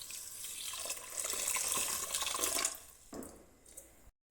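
Water runs from a tap in a steady hissing stream, growing stronger, then thinning out and stopping abruptly at the end.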